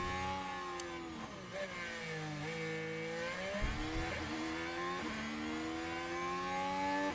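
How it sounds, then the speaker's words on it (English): An F1 car engine in the F1 Manager 2023 racing game, during the Azerbaijan Grand Prix, revs with a close, steady high-pitched whine that rises and drops through gear changes over several seconds, with no talk. "I can hear his engine."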